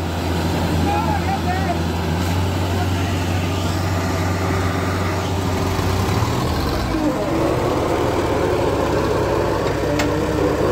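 Two tractors, a Sonalika 745 and an Arjun 605, straining against each other in a tug-of-war contest, their diesel engines giving a loud, steady, close-up roar with a low rumble that shifts partway through; voices sound under the engines.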